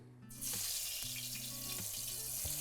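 Potatoes dropped into hot mustard oil for a spiced aloo gravy, bursting into a loud steady sizzle after a quieter start, with a low background hum pulsing underneath.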